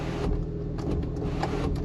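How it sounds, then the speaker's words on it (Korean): An electric car window motor whirs steadily for about two seconds over a low, constant engine and road rumble, inside a Porsche Macan GTS with air suspension. "창문은 열고 달겠습니다"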